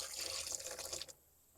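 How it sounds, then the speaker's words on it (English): Fresh water pours into a tub used for cleaning beeswax from a solar wax melter, a close, splashing gush that stops abruptly after about a second. "we'll go ahead and add some fresh water to it"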